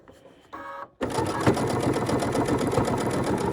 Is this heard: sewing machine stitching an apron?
yes